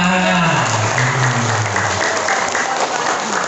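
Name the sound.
audience applause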